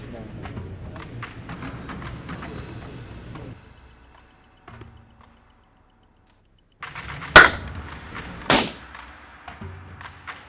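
Gunshots ring out from shooters nearby at a range: two sharp, loud cracks stand out after a quiet stretch, with fainter clicks and handling noise earlier and talk around them.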